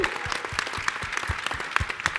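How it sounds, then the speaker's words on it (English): Steady, enthusiastic applause from a large audience at a startup pitch event at the GeekWire Summit, dense clapping filling the whole stretch with no voices standing out. "Let's have one other big round of applause for them."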